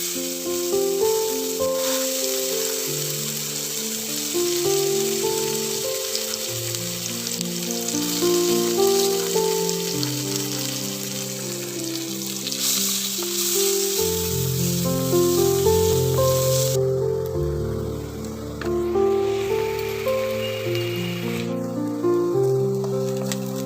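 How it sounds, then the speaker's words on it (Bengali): Chopped onions sizzle and crackle steadily in hot oil with cumin, cloves, cardamom and cinnamon, browning to a reddish colour for a pointed gourd and prawn curry, a continuous close frying hiss under background music. "দেখো আমার পেঁয়াজগুলো লাল লাল করে ভাজা হয়ে গেছে"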